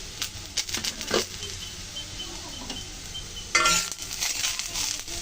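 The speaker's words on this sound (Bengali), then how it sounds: "ঢাকনা তুলে নিচ্ছি।" A lid lifted off a cooking pan of frying potatoes and onions, a brief clattering metal clank over a soft ongoing sizzle, with some earlier light kitchen knocks.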